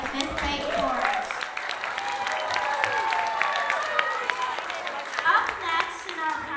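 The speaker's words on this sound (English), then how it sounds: "Let's get another round of applause for our 5th grade chorus." An audience at a school spring concert applauds the 5th grade chorus, steady dense clapping with a few cheers running throughout.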